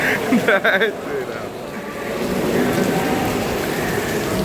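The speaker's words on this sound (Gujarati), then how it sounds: "જો મિત્રો વરસાદ આવી ગયો છે ફૂલ" Heavy monsoon rain pours down in a steady, dense hiss that swells louder, with brief talking from people sheltering nearby at the start.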